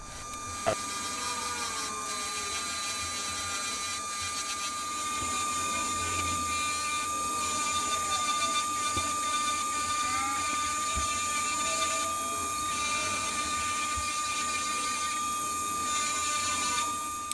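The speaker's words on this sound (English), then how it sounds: "I'm going to sand it down and apply a couple coats of tung oil, and then we come back, I'll polish it up really fast." An acrylic and cedar bowl spinning on a woodturning lathe while being sanded and polished gives off a steady, close, high-pitched whine with a constant tone that runs unbroken throughout.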